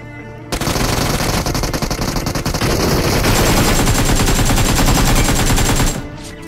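Sustained automatic fire from AKM and UMP weapons in the mobile battle-royale game PUBG Mobile: a loud, rapid unbroken stream of shots running about five seconds before cutting off.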